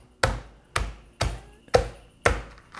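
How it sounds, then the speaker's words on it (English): Tough chuck steak is pounded to tenderize it, with five heavy, evenly spaced thuds in a steady rhythm, each close, loud and ringing briefly. "I'm beating the meat right here."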